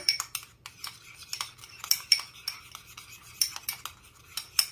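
A utensil stirring sandwich filling in a bowl, making repeated close scraping and clinking strokes in an uneven rhythm, with no talking.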